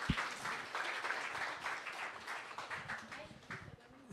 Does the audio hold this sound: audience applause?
yes